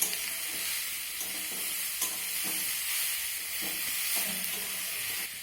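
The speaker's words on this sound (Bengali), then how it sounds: "বাকি থোড়টা দেওয়ার পর আমি ভালো করে কষিয়ে নেব" Banana stem with pumpkin and potato being stir-fried in a pan, giving a continuous sizzling hiss with soft, irregular scrapes and knocks of the spatula, close and steady throughout.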